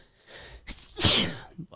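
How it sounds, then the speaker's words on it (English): A single sharp sneeze bursts out, close and loud, with a brief breathy intake before it and faint noise after. "That was a sneeze."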